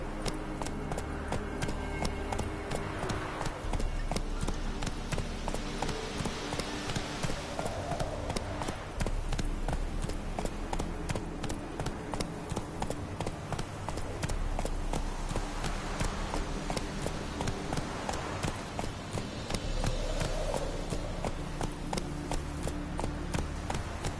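Horse hooves in The Witcher 3 clip-clop in a steady, continuous running rhythm with game music underneath, sustained at moderate loudness throughout.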